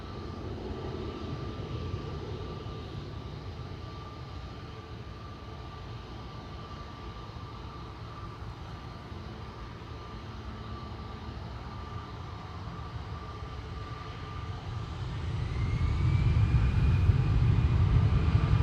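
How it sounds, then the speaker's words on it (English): A steady police helicopter drone at Amsterdam Schiphol Airport sits under a constant tonal whine, with the rumbling engine noise swelling louder near the end as it passes closer overhead. "I am hearing a helicopter,"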